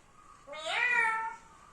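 A pet parrot imitates a cat's meow, a single drawn-out rising-and-falling call lasting about a second, close and fairly clear over a quiet background.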